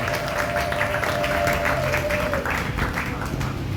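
A church congregation applauds, a steady wash of many hands clapping together, loud and sustained throughout with faint voices mixed in.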